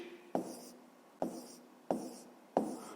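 Four crisp pen strokes tap and scratch on paper at an even pace as an answer is written down, each one close and clear against near silence.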